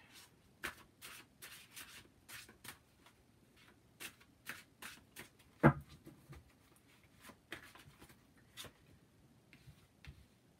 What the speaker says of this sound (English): I'll pull 3 cards.